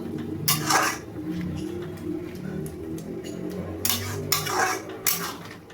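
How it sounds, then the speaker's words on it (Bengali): Metal spoon scraping and clinking against a pot while salted chicken bharta is stirred, a few louder scrapes near the start and again toward the end, with a low cooking rumble underneath. "নুন দিয়ে ভালোভাবে নাড়িয়ে নেব"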